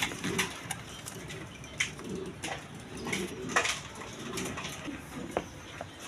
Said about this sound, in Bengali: দর্শকবৃন্দ এখানে এক পেয়ার দামাসিল কবুতর আছে দেখেন